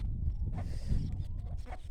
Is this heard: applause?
no